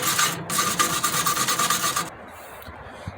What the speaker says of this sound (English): Just kind of go back and forth and clean them up.